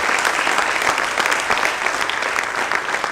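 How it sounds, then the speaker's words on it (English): A large audience at a bank young bankers program convocation claps steadily in a dense, even burst of applause that fills the whole stretch. "So can we have a huge round of applause for Mr."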